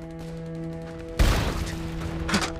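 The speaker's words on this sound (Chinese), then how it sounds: "我方遭到敌人炮火猛烈攻击" A battlefield scene in a Chinese war drama opens with a quiet hum, then a sudden loud blast erupts into a rumbling barrage of explosions and gunfire, and a second burst follows.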